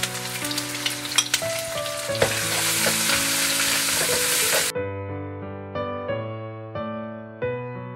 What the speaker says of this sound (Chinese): 再下入葱段，一起炒香。